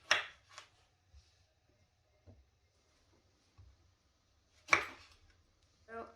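Lemons being halved with a knife: a few sparse, quiet cuts and taps on a board, with a sharper one near the end, separated by long near-silent gaps.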